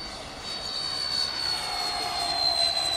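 Remote-controlled Boeing 737 MAX-8 model airliner on its maiden flight in calm air, a high, steady electric whine of its engines passing overhead, moderately loud and holding level for the whole stretch.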